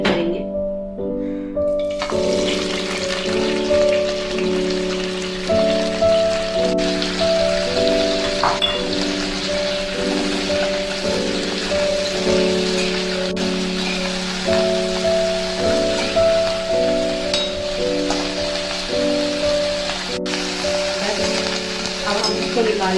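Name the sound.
broccoli lightly frying in a kadai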